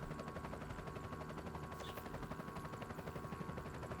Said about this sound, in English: we get this little helicopter flyby here to survey the damage that we caused